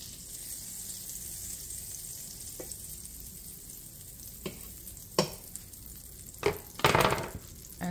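About a tablespoon of butter sizzles in a pan while a quesadilla is being made, a faint steady frying hiss broken by a few sharp clinks and scrapes of utensils near the end, with no voices.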